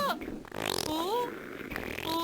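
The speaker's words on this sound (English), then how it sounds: "Why does it make fart noises?" Cartoonish fart noises from the Sega CD game Panic!, a few squelchy, pitch-bending blurts with whistly sliding tones, fairly prominent and close.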